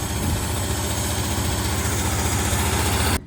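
A Ford 300 inline-six truck engine, turbocharged, with an exhaust leak, idles steadily with a low, rumbling vibration, loud and close, running unbroken before cutting off abruptly at the end.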